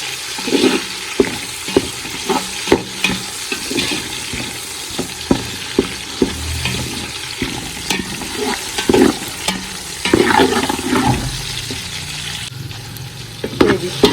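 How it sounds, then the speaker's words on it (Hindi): Tomatoes go into garlic frying in a pan for matar pulao, with a loud, steady sizzle and repeated clinks and scrapes of stirring up close, and no talking. "लहसुन भी भून के अभी इसमें टमाटर ऐड करते हैं। टमाटर को नरम करेंगे इसमें।"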